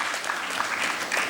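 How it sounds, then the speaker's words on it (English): A brief burst of steady applause from an audience at a knowledge session on startups and capital markets, many hands clapping together at moderate volume. "Let us give all our presenters a huge round of applause for their commendable efforts"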